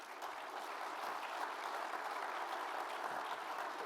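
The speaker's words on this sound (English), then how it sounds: "Let's give Ari a round of applause" A conference audience at a renewable fuels summit in Iowa applauds to welcome a guest speaker, a dense, even wash of many hands clapping continuously without talk.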